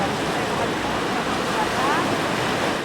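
Ocean waves breaking on a shore in Israel, a loud, continuous rushing wash with no distinct pauses, mixed with some wind noise.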